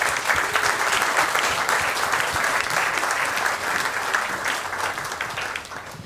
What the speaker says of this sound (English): Round of applause for Mrs. Benigna